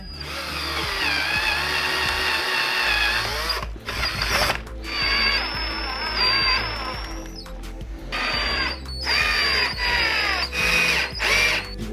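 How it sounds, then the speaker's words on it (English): A power drill pre-drills screw holes in wood for a DIY portable hangboard, whirring loudly and steadily in close bursts with brief pauses and shifting pitch as the bit bites, with no talking. "So in this case, you wanna pre-drill your holes actually."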